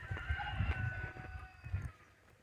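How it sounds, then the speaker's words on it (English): Chickens and other birds in the Andalusian countryside near a villa, faint clucking and a short crow-like call with low thumps, heard from a distance over a few seconds. "You can tell we're in the countryside because we're getting lots of sounds of birds."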